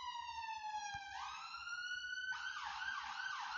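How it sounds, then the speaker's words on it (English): Emergency vehicle sirens wail outdoors, the tones sweeping and overlapping as more than one siren sounds, steady and moderately distant throughout. "Sorry about the sirens in the background."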